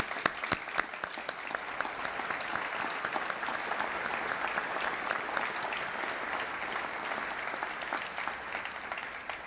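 Sustained, dense applause from a large audience at a naval change-of-responsibility ceremony, honoring Dana and the family, steady and even throughout with no voices on top.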